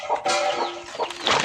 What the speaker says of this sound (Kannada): ಕೋಳಿಗಳೆಲ್ಲ ಅಲ್ಲಿ ಒಳಗೆ ಗಲಾಟೆ ಮಾಡ್ತಾ ಕುಂತಾನೆ